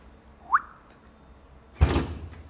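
Front trunk lid of an Audi A6 e-tron electric car being released and opened: a short faint mechanical whir, then a louder soft thunk with a brief rustling swish as the lid lifts, alone without talk.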